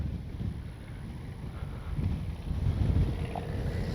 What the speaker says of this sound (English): Oh, the wind picked up, that's for sure.